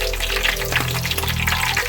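King crab meat frying in hot oil, a steady dense sizzle and crackle running throughout at close range, with no voices.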